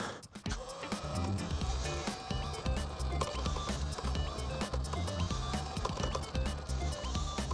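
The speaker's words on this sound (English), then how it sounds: "So just a little burnout just to get the tires warmed up." A Talaria X3 Pro electric dirt bike does a burnout on dirt with a loud, rising electric motor whine, rapid gritty scraping and knocking from the spinning rear tire throughout.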